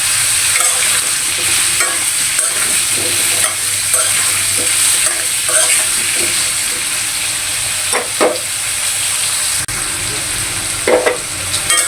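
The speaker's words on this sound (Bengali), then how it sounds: "সব মিলিয়ে সব একসাথে সুন্দর করে ভেজে নেব।" Potatoes and carrots fry in a pan with oil, sizzling loudly and continuously while a utensil stirs them, adding repeated scraping clicks against the pan; no one speaks.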